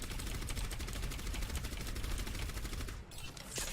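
Rapid, sustained gunfire from Orisa in Overwatch on the Volskaya Industries map, a dense unbroken stream of loud shots that thins out briefly near the end.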